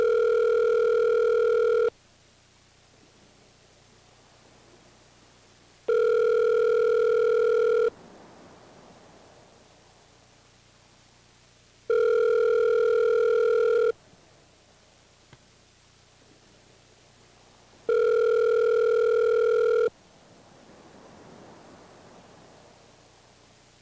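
A telephone ringing out on a call, four long electronic rings evenly spaced with quiet hissing gaps between them, loud and clear.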